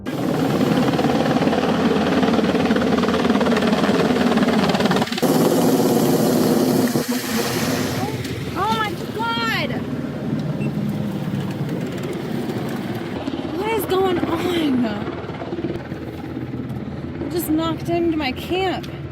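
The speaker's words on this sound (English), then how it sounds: "This helicopter just flew in and knocked over everything." A helicopter flies in and sets down right beside a van campsite at night, a loud, steady rotor roar and engine drone dominating before easing slightly, with scattered voices and clatter over it.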